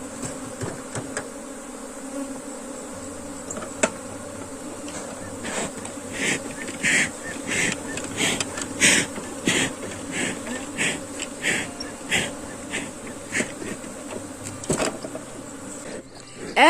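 A dense swarm of bees buzzing steadily at an open beehive, close and continuous, with a droning hum that swells and wavers throughout, no voices.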